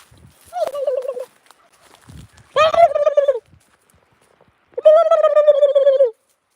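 Three separate bursts of wild turkeys gobbling, a harmonic, wavering call each lasting about a second, with quiet gaps and faint rustling in between.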